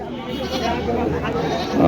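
Goats bleat among the steady chatter and bustle of a crowded rural livestock market on a sandy char at Amtali, Daulatpur, Manikganj, with voices talking throughout.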